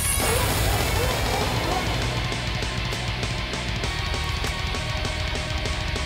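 Crystal shattering in the video game Sea of Stars, a bright crashing burst at the start that rings and tinkles away over a dense layer of game music and effects.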